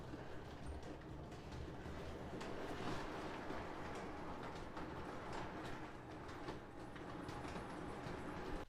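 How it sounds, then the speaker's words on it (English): An O gauge model train engine on a layout modeled on the Strasburg Railroad pulls in toward the terminal platform, a steady rumbling roll with faint clicking of wheels over track, continuous and fairly close throughout. "our engine's now approaching the Strasburg terminal and platform here"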